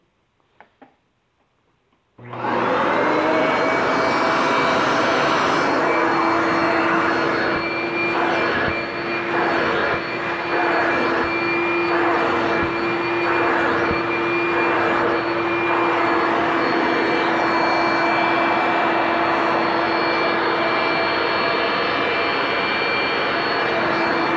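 A Hoover Innovation vacuum cleaner switches on after a quiet moment and runs loud and steady at close range, its high whine holding constant with slight fluctuations throughout.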